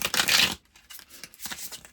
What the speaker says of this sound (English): Maybe 2 more shuffles.